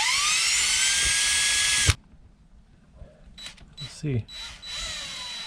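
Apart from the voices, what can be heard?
power drill drilling through RV furnace duct fitting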